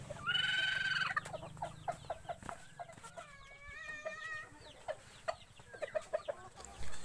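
Several bantam chickens cluck and chatter nearby in quick, irregular bursts, with one longer, louder squawk at the start.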